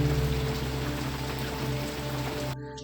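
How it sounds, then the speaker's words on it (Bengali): Heavy rain falls outside at night in the Gorumara forest, a dense, steady hiss of drops drumming on surfaces that runs unbroken and fairly loud, then cuts off abruptly at the end. "বাইরে ঝমঝমিয়ে বৃষ্টি পড়ছে"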